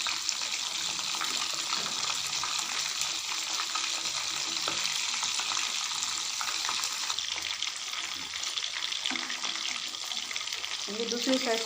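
Fish sizzling steadily in a frying pan, a dense, continuous crackle of hot oil holding close and even throughout with no talk over it.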